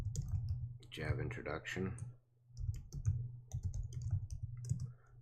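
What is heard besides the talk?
typing on a computer keyboard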